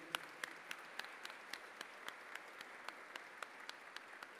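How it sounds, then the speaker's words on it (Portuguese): Faint, steady clapping at an even pace, sounding like a small group heard from a distance during a solemn city council session and medal ceremony in Itaboraí, Brazil. "Quero pedir aqui uma salva de palmas aos meus queridos colegas e companheiros vereadores."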